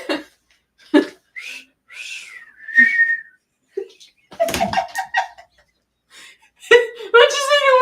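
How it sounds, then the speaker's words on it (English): A person whistles a series of short chirping notes and pitch slides, broken up by bursts of laughter and speech between them. "There's the generic whistle."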